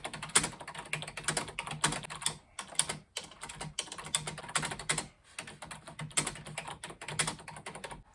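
Steady typing on a computer keyboard during chapter writing, dense clusters of key clicks in bursts with brief pauses between them, close and moderately quiet with no talking.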